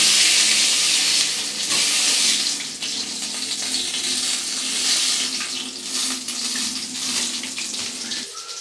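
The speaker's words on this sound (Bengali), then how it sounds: "এই একইভাবে সমস্ত মাছগুলোকে আমি ভেজে নিচ্ছি প্রথমে" Pomfret fish frying in hot oil in a pan, a loud continuous hiss and sizzle with crackling bursts that holds steady throughout, with no talking.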